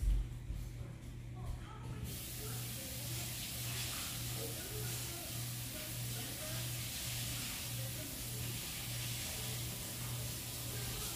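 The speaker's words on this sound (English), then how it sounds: "I'm going to rinse this real quick." Running water pours steadily from a tap over an item being rinsed during diamond painting sealing work, a continuous close spray-like hiss with a brief faint voice at the start.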